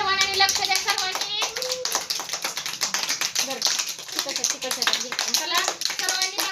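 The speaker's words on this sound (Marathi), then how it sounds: "तुम्ही टाळ्या वाजवा सर्वांनी" A group of children clap their hands in a dense, continuous patter of quick claps, heard close and loud, mixed with children's voices talking and calling over it.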